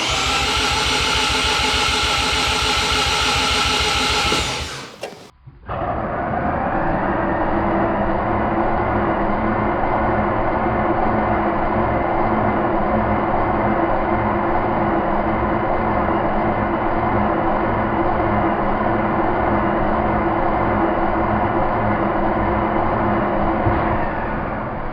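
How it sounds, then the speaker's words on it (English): A Mazda RX7 FC rotary engine cranks over on the starter with its crank angle sensor disconnected, so it never fires. A loud, close, steady mechanical drone runs on without catching, broken by a short pause early on. "go turn the key and crank the engine with the crank angle sensor disconnected"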